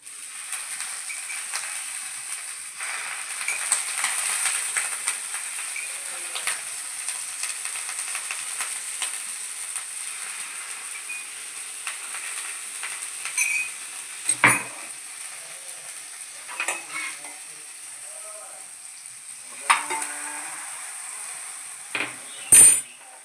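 Milk sweetened with condensed milk sizzles steadily in a pan while being stirred, with occasional scrapes and clinks of a utensil against the pan; no one speaks.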